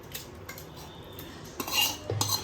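Metal utensils scrape and clink against a pot as cooked vegetables for pav bhaji are spooned into a pressure cooker, faint, brief and irregular, with no talking.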